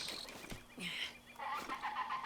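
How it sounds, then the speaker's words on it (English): Birds in the Breath of the Wild video game give a few short, chirping and warbling calls in quick succession, fairly quiet against faint ambient background. "There are some interesting birds here, by the sounds they're making."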